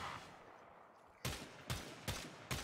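Stradavar Prime rifle from the game Warframe firing four loud, sharp bursts at a steady pace on full auto, each one a punchy crack over a low hum of background game ambience.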